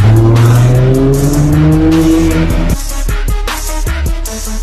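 A McLaren Senna hypercar roars loud and close at a Paris supercar gathering, its engine note sweeping upward through gear changes, then a sharp tire squeal and rapid bursts of revving.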